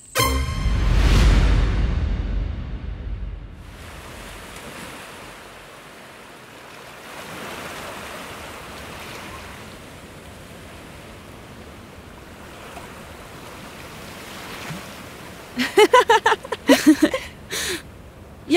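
Sea waves breaking at the shore, a loud surge that washes out and fades into a low steady wash, followed near the end by a few sharp clattering knocks.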